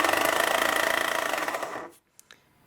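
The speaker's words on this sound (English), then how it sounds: "It's grinding again." A repaired Breville coffee grinder, fixed with a gear repair, runs with a loud, steady, pulsing whirr for about two seconds and then cuts off, leaving a couple of faint clicks in near silence.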